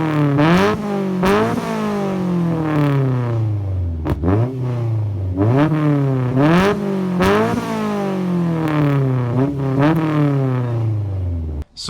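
A Honda car with an aftermarket muffler revs repeatedly, rising and falling in loud throaty sweeps with a deep exhaust note, close by and continuous.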